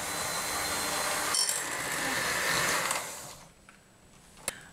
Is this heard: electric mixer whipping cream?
yes